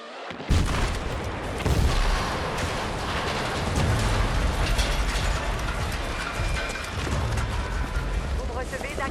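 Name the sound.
explosion in a video game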